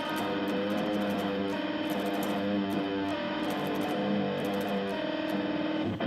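A heavily distorted electric guitar plays a dense, dissonant riff in the style of a death metal band, with sustained bent power chords ringing continuously and loudly over constant rhythmic churn.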